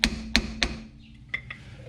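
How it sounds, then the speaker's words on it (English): A hammer taps a car's brake bleeder nut three times in quick succession with sharp ringing clinks, followed by two lighter taps after a short pause. "Take a hammer, tap it around,"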